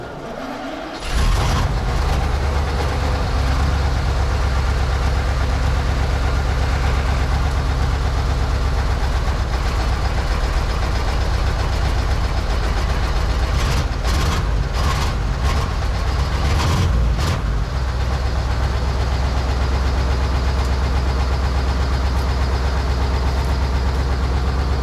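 A KrAZ 255 truck diesel engine cranks and fires, then settles into a loud, steady deep idle that runs on close by, with brief uneven revs partway through and no talking.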